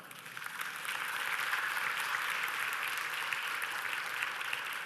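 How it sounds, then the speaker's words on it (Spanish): Applause from a church congregation during a sermon, starting a little softer and swelling into a steady, dense wash of clapping that holds evenly to the end. "Den un aplauso."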